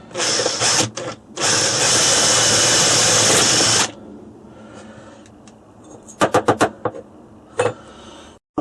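A power drill bores into a synthetic rifle stock for an HW97KT air rifle from the back side, in loud steady bursts: a short run, a long sustained whine of about three seconds, then a quieter stretch with several brief sharp taps near the end.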